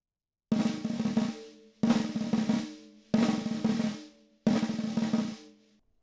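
A snare drum plays four repeated buzzed figures, each a flam and two sixteenths with every stroke pressed into a roll, loud and close, separated by brief silences.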